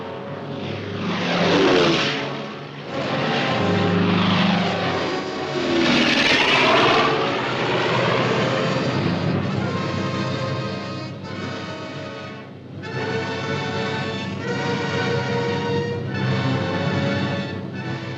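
Aircraft engines drone at the Moresby airstrip as paratroopers load for a WWII combat jump in New Guinea, a loud sustained propeller roar with shifting pitch and swells in intensity throughout.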